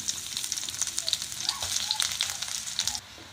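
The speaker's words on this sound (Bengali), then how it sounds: "এখন আমি দিয়ে দিচ্ছি পরিমাণ মতো পেঁয়াজ কুচি" Chopped onions hiss and crackle as they hit hot mustard oil in a pan, a bright close sizzle with sharp spitting pops that drops off abruptly near the end.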